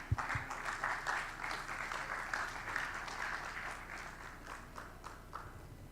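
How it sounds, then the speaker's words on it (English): Applause from a WordCamp Kerala 2023 audience for the panelists at the main venue, sustained crowd clapping that gradually thins and softens toward the end, with a few louder claps at the start. "come on, a round of applause for them, come on"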